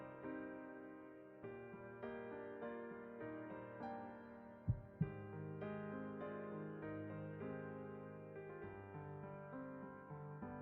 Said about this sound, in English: The sound of my heartbeat.